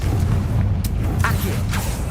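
A Confringo spell explodes in Hogwarts Legacy with a deep, rumbling boom and short crackling bursts, loud throughout a two-second span.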